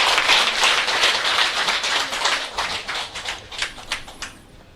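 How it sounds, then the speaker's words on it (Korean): Audience clapping at an indoor ceremony after flowers are presented, a dense patter of many hands that swells, then thins into scattered claps and fades out. "박수 주시기 바랍니다"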